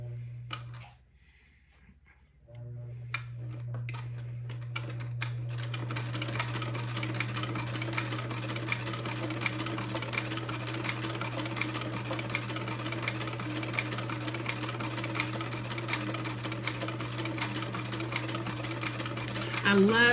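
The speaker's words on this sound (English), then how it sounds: "now I'm going to lower my presser foot and I will begin to sew the first buttonhole" Vintage sewing machine with a buttonholer attachment stitching a buttonhole on a baby doll's dress, a steady close mechanical hum and rapid needle clatter running continuously after a brief pause near the start.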